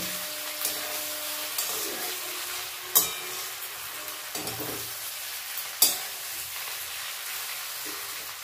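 Small chuno fish curry with fresh coriander is stirred in a pan, a soft low sizzle under occasional scraping strokes with two sharper clanks of the utensil, close and fairly quiet.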